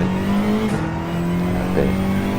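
Race car engine at Fuji circuit holding a steady high drone, with a brief dip and pitch change as it shifts up from second to third gear, then settling into a smooth constant tone, close and loud.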